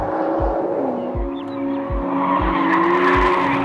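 A 2013 Nissan GT-R Black Edition with 550 horsepower and all-wheel drive takes a corner too fast, tires squealing in a long rising whine over a loud engine with rhythmic low thumps, close and without talk.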